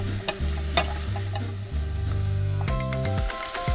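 Fresh garlic sweating in a pan for a creamy garlic soup, a steady close sizzle with a few scraping stirs and clicks, the frying tone shifting as the pan is moved, no talking.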